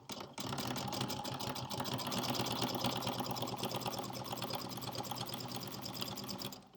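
Close, steady whirring of a sewing machine running a straight pillowcase seam, a continuous rapid needle chatter that starts after a brief pause and holds for several seconds, no speech over it.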